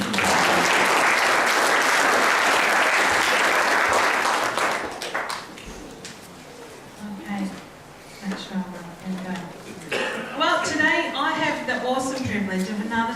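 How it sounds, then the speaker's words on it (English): A church congregation applauds before a child dedication, loud, dense clapping for about five seconds that then fades. A voice follows and talks through the rest. "Give it a round of applause."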